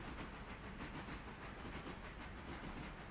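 A train slowing to a stop in the railroad video game Railroader, heard as a steady, dense rolling rumble with hiss, continuous and moderately loud with no talk.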